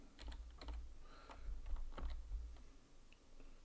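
Computer keyboard keys tapped while working in Blender 3D software, a run of quick, close clicks and taps in uneven bursts with short pauses, fairly quiet and alone.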